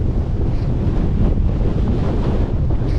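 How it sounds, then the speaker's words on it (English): Strong wind buffeting the microphone on the exposed summit of Harter Fell in the Lake District, a loud continuous roaring rumble with no voices. "it's really, really windy."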